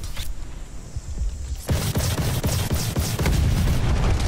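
An EX1 weapon in Call of Duty Vanguard fires after a short quiet lead-in, then a loud burst of sharp repeated shots and booms fills the rest, close and dense with no talk.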